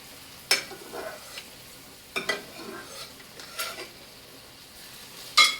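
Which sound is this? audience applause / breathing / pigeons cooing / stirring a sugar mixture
stirring a sugar mixture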